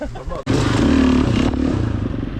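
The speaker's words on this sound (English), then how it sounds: "he's not rode his bike for months. But trust me, he's going to be ripping it" A motocross bike rips around a sandy enduro track covered in Belgian sand, its engine roaring up loud and close after a short gap, with a voice briefly audible over it.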